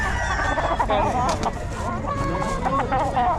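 Chickens and roosters, including a Sweater Gilmore rooster, at a busy animal market, clucking and crowing close by while people talk over the steady crowd noise.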